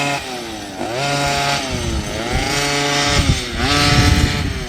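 An OBR 46cc 12hp two-stroke gas engine with a silenced pipe, fitted in a 4x4 concept truck, runs loud and close, its pitch rising and falling in repeated revs as the carburetor is adjusted, with no talking.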